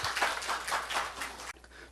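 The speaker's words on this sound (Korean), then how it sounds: "우리 하나님께 박수 올려드려요" A church congregation claps in praise during a Korean worship service, a dense, steady patter of many hands lasting under two seconds before cutting off abruptly.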